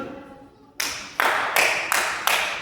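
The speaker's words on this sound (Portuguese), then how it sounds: "quando alguém faz algo que é digno de aplauso, eles aplaudem assim, ó" One person clapping slowly and deliberately, five sharp, evenly spaced claps close by after a brief quiet moment.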